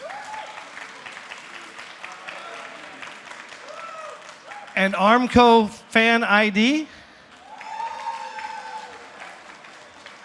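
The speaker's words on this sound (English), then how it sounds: "if you would invest in Prompt Master Pro, give me a cheer" An audience at a Dragons' Chamber Taiwan 2025 pitch event applauds and cheers, with steady clapping in the room. Someone speaks loudly midway, and the clapping carries on around his voice.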